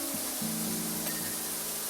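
A pressure washer in the game PowerWash Simulator 2 blasts a roller shutter, giving a steady, unbroken hiss of spray close by that lasts the full two seconds, with a low hum running beneath it.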